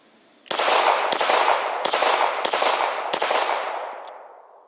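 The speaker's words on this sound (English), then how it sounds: "So let's do some test shots with no suppressor." Five unsuppressed shots from a Glock 19 pistol firing 115 grain 9mm ammunition, loud sharp reports at a steady pace, each blast running straight into the next and tailing off into a fading echo.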